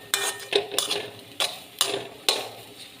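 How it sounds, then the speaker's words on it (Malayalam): A spatula clicks sharply against the pan about six times in an irregular rhythm while Japanese spinach thoran with grated coconut is stirred, with a soft sizzle underneath. "നല്ലോണം അങ്ങോട്ട് ഇളക്കി കൊടുക്കാം."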